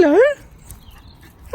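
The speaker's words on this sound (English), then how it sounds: "There's a dog, Rich." A dog yips and whimpers in short high bursts at the start and again at the end, fairly close, with quiet outdoor background in between.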